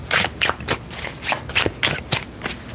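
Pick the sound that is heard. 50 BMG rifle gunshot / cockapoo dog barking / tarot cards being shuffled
tarot cards being shuffled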